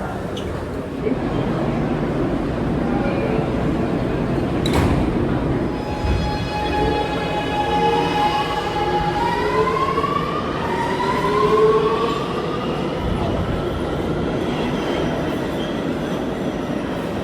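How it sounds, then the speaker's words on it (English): A new Kawasaki train on the New York Subway rumbles through a station, its wheels squealing and its motors whining in rising and falling tones, loud and close, with a sharp clank partway through. "the next train behind us was one of these new Kawasaki trains"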